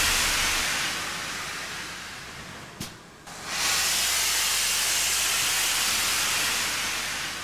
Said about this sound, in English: As if by magic, a mechanical miracle moves under its own steam for the first time since the 60s.